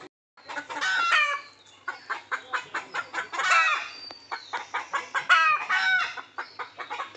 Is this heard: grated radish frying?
no